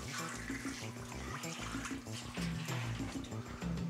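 Cold water rinsing through a Grainfather G70 brewing system, a steady loud rush and splash of running water continuing the whole time with bubbling, gurgling texture and no voices.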